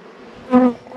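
Honey bees around an opened hive, a soft low hum that swells into a brief louder buzz as one bee passes close, then fades back down.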